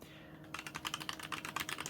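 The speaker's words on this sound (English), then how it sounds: "Not as loud as some other mechanical keyboards, of course, but definitely louder than the usual." A budget mechanical keyboard clacks under fast typing, a rapid run of crisp, fairly loud key strikes that begins after a short quiet moment.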